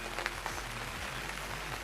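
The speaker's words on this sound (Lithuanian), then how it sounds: "kai lyja ir nevalgo karpis" Light rain patters steadily on the surface of a lake during a carp fishing session, a soft continuous hiss with a few faint drop ticks.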